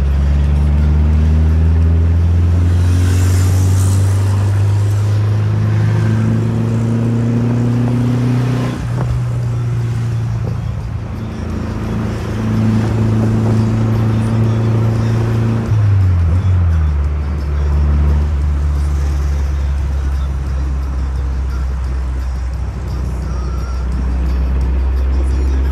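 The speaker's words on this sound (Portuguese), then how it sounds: "Consigo abrir o vidro traseiro aqui para vir mais som do escape para vocês?" A Volkswagen Variant 1600 engine and exhaust rev up and drop repeatedly as gears shift, a loud, steady low drone with pitch rising and falling, heard close from inside the car.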